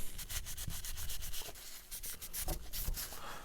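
Scrubbing the barrel of a Beretta APX Carry pistol with a Hoppe's No.9 pistol cleaning kit: steady, close brushing and rubbing strokes repeat in a quick rhythm, with no talk.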